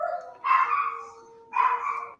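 A puppy gives two drawn-out, whining barks about a second apart, fairly close, with a tonal, yelping quality and little else in the background.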